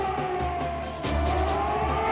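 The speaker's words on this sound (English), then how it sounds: "Now the sirens are sounding for the first time." Air raid sirens over Baghdad on the opening night of the 1991 Desert Storm air campaign: a steady, droning wail holds throughout with no voices and rises slightly in strength partway through.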